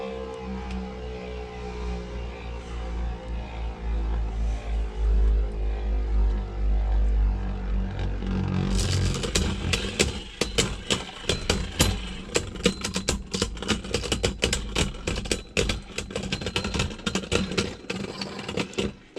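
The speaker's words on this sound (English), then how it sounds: "you can kind of hear it scraping against the barrier" A Beyblade Burst top, Barricade Lucifer, spins in a stadium, first as a steady whirring hum, then as rapid rattling scrapes and clicks against the barrier for the second half.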